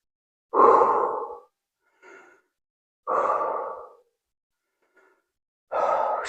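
Heavy breathing after an upper body workout set, three long deep exhales spaced a few seconds apart, close and loud, with faint short breaths between them.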